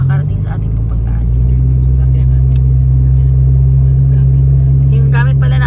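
A 1998 Toyota Corolla on the move, its steady low engine hum and road rumble holding loud and constant throughout, with faint higher noise flickering above.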